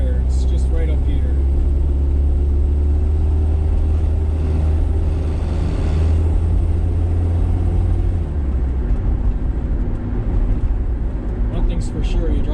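An old AMC car drives along a busy road, heard from inside as a steady low engine rumble and road noise throughout. The engine holds a constant drone that eases slightly toward the end.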